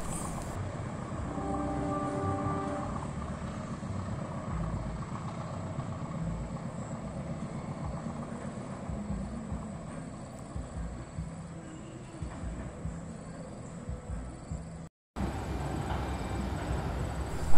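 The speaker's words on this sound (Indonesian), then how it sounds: "Kereta api Pasundan melintasi jembatan Cirahong yang sedang mendapat pengecatan ulang." A passenger train rumbles steadily past at close range while crossing the Cirahong bridge, a continuous heavy rolling roar with a short tonal hum early on, then a brief cut near the end.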